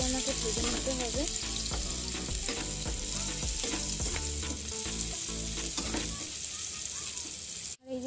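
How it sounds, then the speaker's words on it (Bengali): Chopped onions fry in plenty of hot oil in a pan, a loud, continuous close-up sizzle with occasional stirring scrapes, fading slightly near the end. "পেঁয়াজ কুচিটাকে ভালো করে আমাকে ভেজে নিতে হবে।"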